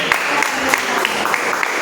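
Church congregation applauding during a worship service, a steady dense wash of clapping from many hands throughout, moderately loud and close.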